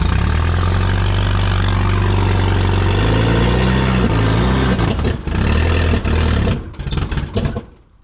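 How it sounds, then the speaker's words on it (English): A sprayer's engine runs loud and steady, then is throttled back, its pitch falling and stuttering as it idles down before it dies out near the end. "Let's try idling it down."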